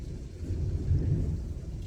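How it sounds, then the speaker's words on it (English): Heavy rain pours off a house roof in a steady, dense low rush that swells slightly midway, with no voices. "Can y'all see this rain pouring off the roof?"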